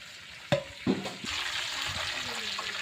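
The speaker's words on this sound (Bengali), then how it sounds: "এই যে তেলে ভাজা হচ্ছে" Meat pieces frying in oil for a village-style curry, with two knocks of utensils at the start giving way to a steady, fairly loud sizzling hiss that carries on evenly to the end.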